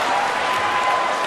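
High school basketball playoff crowd at Sanford School applauding in a gym, a steady dense wash of clapping and cheering that holds evenly throughout.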